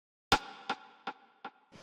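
A punchy, powerful rim shot drum sample in an organic beat, struck five times at an even pace, each sharp crack leaving a short ringing tail, fairly quiet and alone.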